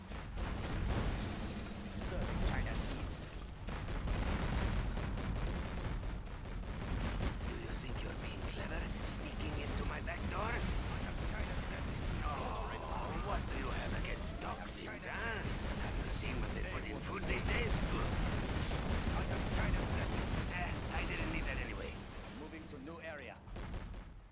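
Rapid tank cannon fire from fully upgraded Battlemaster tanks in Command & Conquer Generals Zero Hour, a dense, continuous barrage of booming shots and explosions with game sounds layered over the top.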